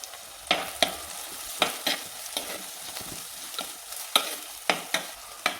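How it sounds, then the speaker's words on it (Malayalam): Crushed red shallots stirred in a frying pan for a sardine chilli curry, a soft sizzle broken by repeated scraping strokes of a spoon at an uneven rhythm, close and fairly quiet with no talking. "ചതച്ച ചുവന്നുള്ളി ഇതെല്ലാം കൂടിയിട്ട് നമുക്ക് നന്നായി ഇളക്കിയെടുക്കാം."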